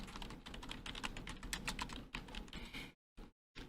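Rapid keyboard typing, a dense run of clicks and key taps at close range, stopping briefly near the end before a couple more keystrokes.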